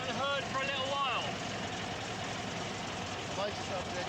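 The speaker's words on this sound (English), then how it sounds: "The mighty Meteor engine has roared and the tank is beginning to come alive." The Rolls-Royce Meteor engine of a Centurion tank runs with a low, rumbling drone, partly masked by someone talking over it near the start and again near the end.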